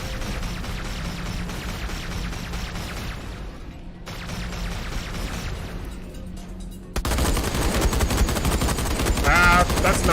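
Flak cannon fire in the space shooter Everspace 2 comes as a dense, continuous barrage of booming gunfire that swells sharply louder and harsher partway through, with blasts overlapping into a roaring wall of sound.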